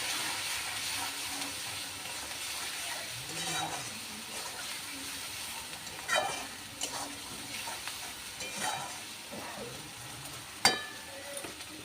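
Spices with turmeric powder and salt being sautéed for egg curry in a pan, giving a soft, steady sizzle with occasional stirring and scraping clinks, fairly quiet and close.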